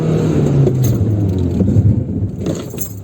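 A car engine rises and revs steadily during a driving lesson, a continuous close rumble with light jingling rattles over it and no talk.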